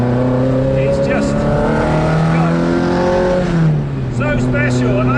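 A Cosworth-powered Ford Escort RS2000 race car on the move, its engine roaring loud and close with steady high revs, a brief dip as it shifts, then climbing again, with a voice heard over the noise.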